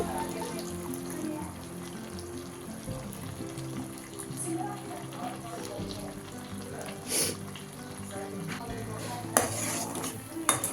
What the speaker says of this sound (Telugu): ఒకసారి పెరుగు వేసుకున్నాక కలుపుకుందాం